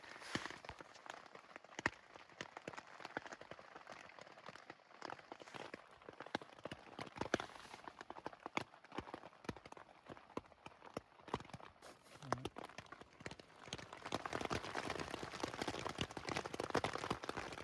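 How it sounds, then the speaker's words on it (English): At night, rain drums on a tent with dense, irregular taps and patters close by, building to a heavier, fuller hiss toward the end. "The rain sure is nice to listen to."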